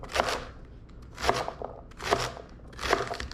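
A knife chops onions in four evenly spaced, quiet, crisp strokes.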